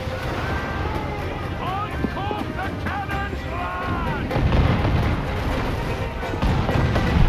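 Ship cannon fire from a sailing warship in Assassin's Creed IV Black Flag, heavy booming blasts over constant wind and sea noise. Whistling tones run through the first half, and the boom grows stronger toward the end.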